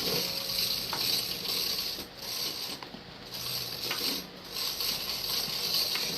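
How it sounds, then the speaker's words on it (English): Peach muffin batter with baking powder is beaten in a bowl, giving a continuous, fairly quiet rhythmic scraping and whisking that swells and eases in repeated strokes. "We'll mix that up real good."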